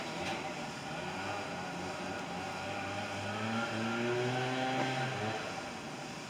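Lawn mowing noise drones faintly outdoors in the background, a continuous engine hum whose pitch rises and falls slightly throughout.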